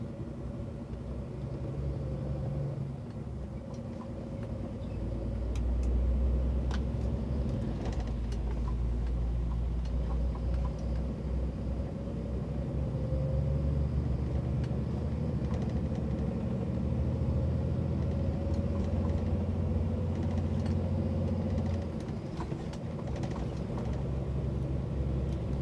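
Steady low engine and road rumble from inside a car moving at moderate speed on a highway near Curitiba, Brazil, continuous and droning with faint background noises, no talking.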